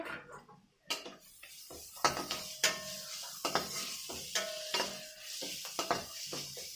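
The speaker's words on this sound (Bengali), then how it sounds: "আদা রসুনটা দিয়ে আবার একটু ভেজে নেবো" Ginger and garlic fry in a pan with a soft sizzle under repeated clinking stirs of a metal spoon against the pan, sharp knocks coming every half second or so.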